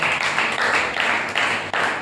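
Congregation clapping hands together in a church prayer service, a dense, steady wash of many overlapping claps with slight surges in rhythm, close and fairly loud throughout.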